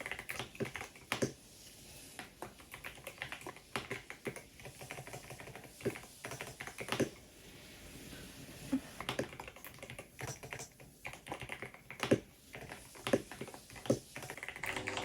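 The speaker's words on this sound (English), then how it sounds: "I wish that I have a mic so I can show you how the sounds of this keyboard feels like" Typing on a pink Yunzii mechanical keyboard, a quick irregular stream of crisp key clicks and clacks with short pauses between bursts, close and alone.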